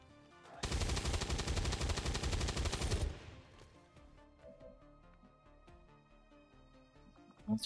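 A loud, rapid burst of automatic gunfire from XCOM 2 Long War of the Chosen rattles for about two and a half seconds, then fades to quiet background game sounds.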